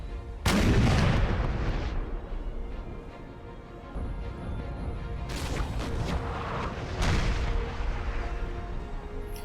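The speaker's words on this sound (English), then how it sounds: "the cannon fire is wildly inaccurate" Napoleonic-era artillery cannons fire in the Napoleon Total War battle game, with repeated heavy booms and rumbling blasts over a continuous roar of battlefield musketry and distant gunfire, loud and dense throughout.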